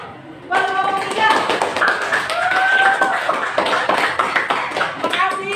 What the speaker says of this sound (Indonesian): beri tepuk tangan dulu buat kelompok 3